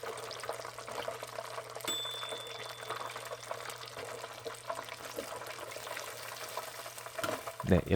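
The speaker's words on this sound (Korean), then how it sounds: "튀김 소리는 참 좋은 것 같아요" Pufferfish deep-frying in hot oil, a steady close crackling sizzle running throughout at low, even loudness, with a faint clunk near the end.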